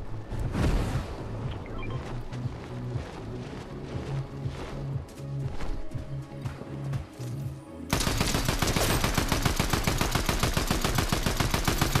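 Gunfire in Fortnite: scattered shots and bursts at first, then a loud, dense run of rapid automatic fire that keeps going to the end, with no talking.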